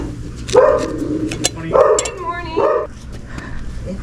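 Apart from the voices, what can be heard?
dogs barking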